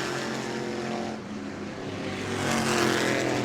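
Modified race cars race on the New Smyrna track, their engines giving off a continuous, loud roar that swells and eases as the cars pass.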